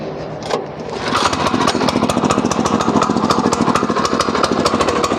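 A Husqvarna TF440 walk-behind tiller with its engine catching after a brief rattle, then settling into a loud, close, steady chugging idle with a fast regular beat.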